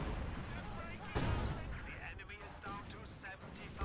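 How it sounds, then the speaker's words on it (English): A grenade explodes in Company of Heroes 2 amid ongoing battle gunfire and artillery, a sharp blast near the middle over continuous noisy combat, with someone talking over it. "Wow, really good, nice grenade."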